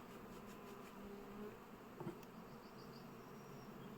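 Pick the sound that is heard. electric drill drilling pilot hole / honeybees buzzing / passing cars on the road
honeybees buzzing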